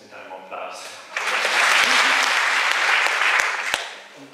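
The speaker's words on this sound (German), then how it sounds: "das müssen wir kurz mit einem Applaus" Audience applause breaks out at a talk on imperialism. Brief speech is followed by a dense, steady wave of clapping that swells and holds for about three seconds, with a few sharper claps standing out.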